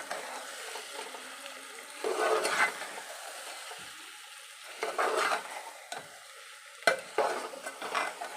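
Egg curry with tamarind stirred in a pan: soft intermittent scrapes and swishes of a spoon in thick liquid, with a few sharper clinks against the pan, close and fairly quiet.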